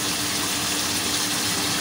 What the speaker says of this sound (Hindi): 2 टेबल स्पून वाटर डालेंगे, पानी डालेंगे ताकि कीमा जो है वो अच्छे से अलग अलग हो जाए